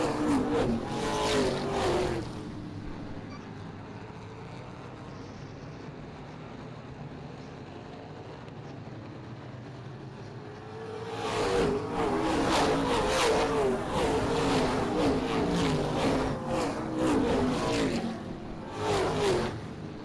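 Race cars circling Springport Motor Speedway, engines roaring loudly as a pack passes, fading to a distant drone, then swelling again as the field roars back by, no talking.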